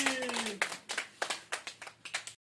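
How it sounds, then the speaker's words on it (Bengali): Hands clap about a dozen times in a quick, slightly uneven rhythm, sharp and close, during a fun spinner-and-balloon-popping prize game. "হাততালি"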